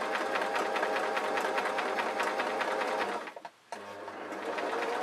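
A sewing machine runs at a fast, even stitching rhythm while sewing a pleated gossamer shirt, pausing briefly near the end before starting up again.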